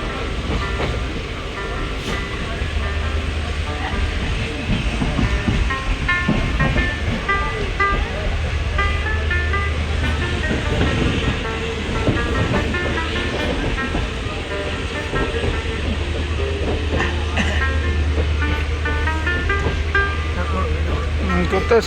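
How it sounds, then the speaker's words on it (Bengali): A moving train heard from on board a carriage gives a steady low rumble with rhythmic clatter throughout, while someone talks over it close by. "ট্রেনে উঠে একটা ভিডিও করছি"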